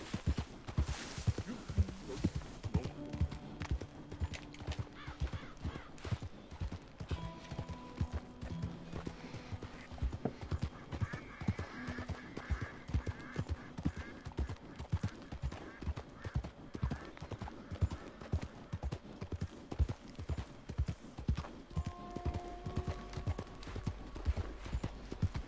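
Steady clip-clopping of horse hooves in Red Dead Redemption 2 in a quick, even rhythm, with an occasional whinny and quiet voices talking over the game backdrop.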